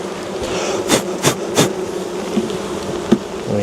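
Honeybees buzz steadily through a beehive brood inspection, with a dense hum broken by several louder bursts as bees fly close past, plus a few faint knocks of equipment.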